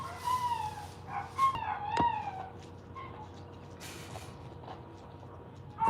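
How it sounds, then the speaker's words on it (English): Dogs outside bark and wail in the background, a few faint howls and yelps rising and falling irregularly over a quiet room with low hum. "Just like them dogs in the background are vibe killers."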